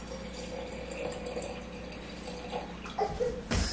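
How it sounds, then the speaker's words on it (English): Filtered water pours into a mason jar of rice in a home kitchen, a soft steady trickle with faint splashing and a couple of sharper knocks near the end. "I have some filtered water right here, so I'm just gonna put enough to cover the rice."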